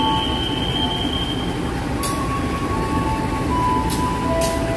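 A locomotive shunting rumbles steadily nearby with a constant low drone, thin squealing tones from the wheels, and a few brief sharp hisses.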